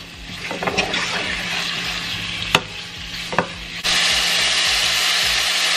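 Vegetables go into a hot pan and start to fry, with a few sharp clacks of a utensil followed by a steady, close sizzle that suddenly grows louder near the end.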